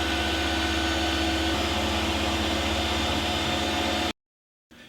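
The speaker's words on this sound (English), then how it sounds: "now that the compressor's done running" An air compressor runs with a loud, steady, close hiss and hum. It cuts off abruptly, leaving a short silence before faint room noise returns.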